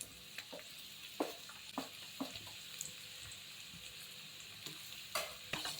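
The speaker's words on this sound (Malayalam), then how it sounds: "ഈ സവാള, നമ്മൾ അരിഞ്ഞിട്ടുള്ള സവാള അതിലേക്ക് ഇട്ട് കൊടുക്കുക" Sliced onions frying in ghee for a Kerala-style vegetable biryani, a steady soft sizzle with scattered clicks and scrapes of stirring, close and fairly quiet, no talking.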